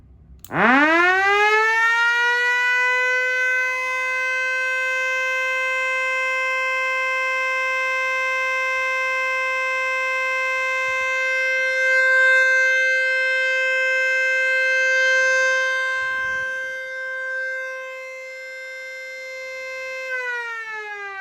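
Small 12-volt siren sounding a steady, loud, sustained wail that climbs to pitch and holds for about twenty seconds before winding down and rising again.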